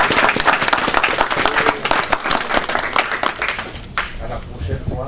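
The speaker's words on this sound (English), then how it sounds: "je vous demande d'applaudir" An audience at a Cameroonian embassy welcome day in Belgium claps together in a dense, sustained round of applause that gradually thins out toward the end.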